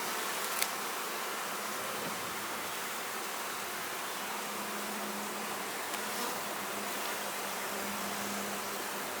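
Bees buzz steadily during hive work, requeening and adding supers, a dense continuous hum with a couple of brief knocks.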